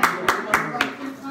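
A few scattered handclaps, about four evenly spaced sharp bursts, fairly close, applause for Napoli after their 2-0 win at Nice in the Champions League preliminary.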